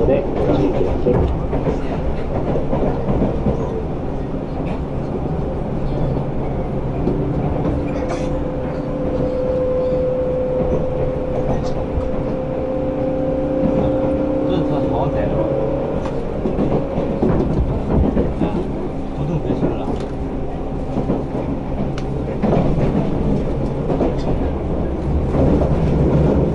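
A Tobu 350 series limited express train rumbles steadily along the rails with soft clattering over the track, while an onboard announcement about stopping at Kasukabe after Kita-Senju speaks faintly in the background.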